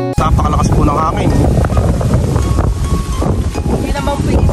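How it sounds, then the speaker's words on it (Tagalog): Strong wind buffets the microphone at an outdoor fishpond under overcast skies, a loud, continuous roar with gusty swells, and a person speaks over it. "Napakalakas po ng hangin."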